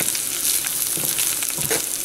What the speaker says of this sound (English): So just stir this for another minute or two.